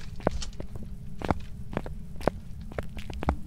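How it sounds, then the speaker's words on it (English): Ghost footsteps in a hallway in Phasmophobia: a run of sharp, fairly quiet steps at an uneven pace, with a low hum underneath and no voices. "I heard the footsteps. I think it's in the hall."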